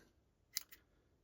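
Scissors snipping onion seed heads: two quick, faint, close-up snips in quick succession against quiet room tone.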